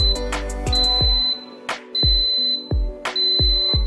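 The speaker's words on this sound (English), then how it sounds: "When all the water has evaporated at around 9 minutes, there will be a sound of 5 beeps." A multi-function baby bottle sterilizer finishing its cycle beeps five times, a steady high electronic tone in several longer beeps, over a background of low knocking thuds.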